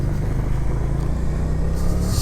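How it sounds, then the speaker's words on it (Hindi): A cold-started motorcycle idles and pulls away at the start of a road trip near Pokhara, Nepal, with a steady low engine rumble throughout, close by, over outdoor background noise and with no speech. "बाइक मैंने पहले ही कोल्ड स्टार्ट कर दिया था, तो अब हम निकलते हैं डायरेक्ट यहाँ से आगे के लिए।"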